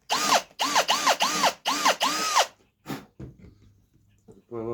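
A power drill bores a hole into wood for a rustic barn build, in several loud bursts that rev up and drop off, with a pause between each, then a short rattle and quieter handling sounds at the end.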